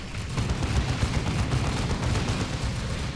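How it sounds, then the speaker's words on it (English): A flamer weapon fires in the real-time strategy game Dawn of War II, a dense, continuous roar and crackle of burning flame, loud and unbroken amid the battle noise. "See, the flamer's a good weapon here."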